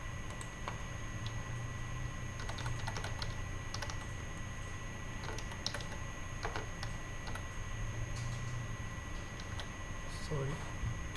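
Typing on a computer keyboard, a steady run of light clicks and taps throughout, faint against a hum of background noise with some speech-like murmur.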